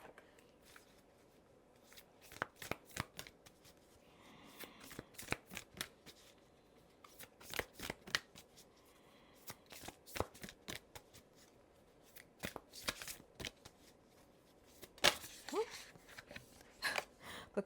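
A deck of cards is shuffled by hand in a quiet room, with repeated bursts of riffling and soft card slaps spread across the clip.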